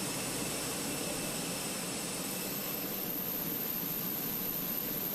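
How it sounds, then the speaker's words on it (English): Steady, loud jet engine roar from a Fenix A320 airliner in Microsoft Flight Simulator, a constant broadband rush with a high whine running unbroken throughout, no voices over it. "Is that our aeroplane making all that noise?"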